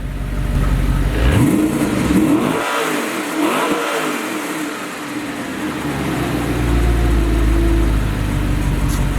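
A straight-piped Audi R8 V8 engine revs hard several times, its pitch rising and falling in sweeping bursts before dropping back to a rough idle.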